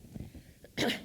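A brief sneeze from someone in the audience at a software craftsmanship talk, a quick sharp burst after a few soft breaths, heard from some distance in the room.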